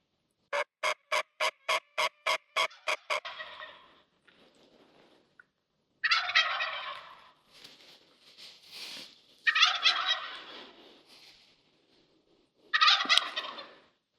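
Merriam's wild turkeys in mountain country on public land gobble loudly, opening with a rapid run of clipped pulses and followed by several separate rattling gobbles spaced a few seconds apart.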